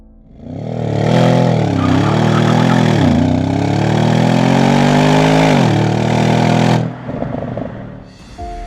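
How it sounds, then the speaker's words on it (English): A twin-turbo V8 in an Audi S6 C7 runs close and loud, its deep steady drone rising and dipping with several revs before cutting off abruptly near the end. "This twin-turbo V8 here in the S6 is one of the most characteristic Audi engines ever."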